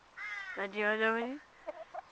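A few short clucks from a chicken, close by, followed by quieter soft clucking sounds.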